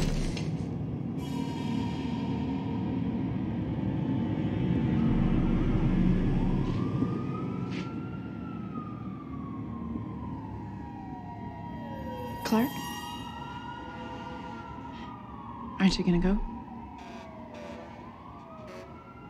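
An emergency siren wails and rises and falls in the distance, with a person talking briefly over it.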